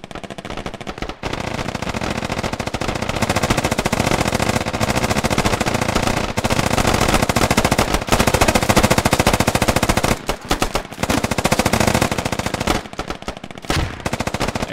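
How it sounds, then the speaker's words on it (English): Sustained machine gun fire from a squad-based military shooter video game, a dense continuous rattle of rapid bursts during a river crossing assault, loud and close throughout with brief gaps near the end and no talking. "They are putting some good suppression on the insurgents."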